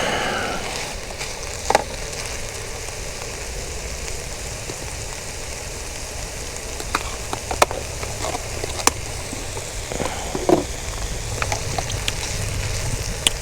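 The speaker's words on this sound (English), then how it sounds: "the onions are going in" Onions sizzling steadily in a hot pan, a dense, even frying hiss with a few sharp pops and clicks scattered through it, close by and with no talking.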